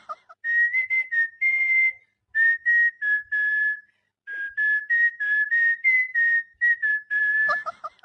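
A person whistles to coax Gangaram out of a bottle: a close, loud run of short, tuneful whistled phrases separated by brief pauses, with a faint voice near the end.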